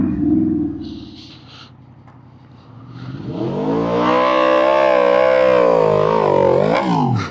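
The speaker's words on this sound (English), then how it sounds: "I think that was meant to be a burnout." A motorcycle revs hard in a failed burnout attempt that toasts the clutch, the engine note climbing and holding loud and close for several seconds after a quieter rumbling start.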